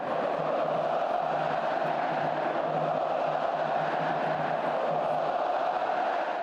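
Vasco supporters in a football stadium crowd roar in a dense, continuous wall of voices, a sustained far-off chant of olé celebrating the result in the closing minutes.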